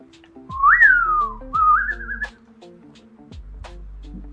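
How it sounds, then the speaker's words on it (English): Inhaled whistling, made by sucking air in, gives two sliding, warbling tones that rise and fall, close and fairly loud, followed by quiet room hum with no talk. "try sucking the air in rather than blowing it out, because that's how I whistle, by sucking the air in."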